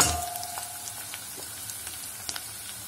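Onions sizzle and fry in a pot as the base for lentil soup, a soft steady crackle with scattered small pops, close and fairly quiet, no voices.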